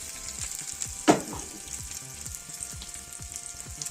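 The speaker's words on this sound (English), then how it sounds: "I'm gonna keep frying this." Food frying in a pan with garden ingredients and raisins, a steady close sizzle broken by rhythmic scraping strokes of stirring and one sharper clack, no voices.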